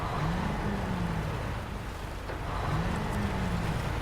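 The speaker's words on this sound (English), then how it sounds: "I never noticed that engine sound of it revving up like that" A Pacific truck engine in the SnowRunner video game revs up twice, each rise climbing in pitch over a steady low rumble and wind-like noise, with no talking.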